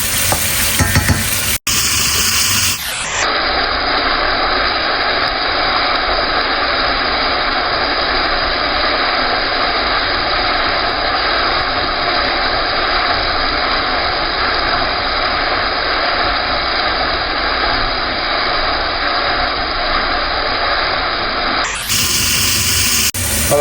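Squid sizzling hard in a pan over high heat, a loud continuous fry that runs steadily for about twenty seconds with brief clatter before and after.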